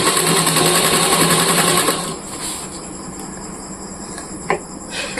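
A sewing machine, running stiff and tight, stitches a bag made from cement sacks: a loud, close whirring run for about two seconds, then a quieter mechanical hum with a sharp knock.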